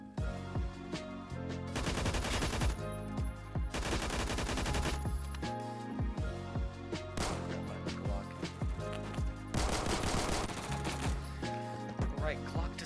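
Gunfire in a shooter video game, with Glock pistols mentioned: dense bursts of rapid automatic shots and single reports come in loud clusters over continuous game music and effects.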